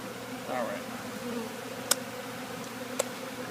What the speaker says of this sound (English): There's too many bees on here